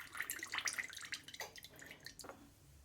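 Fat draining from a cooking pan tipped partly over a gap while making cottage pie, heard as a quick run of close, bright drips and small splashes that thin out into sparser trickles.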